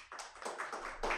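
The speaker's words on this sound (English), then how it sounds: "I think that deserves a round of applause" A small studio audience gives a guest a short, thin round of applause: a few scattered hand claps over about a second, close and fairly quiet.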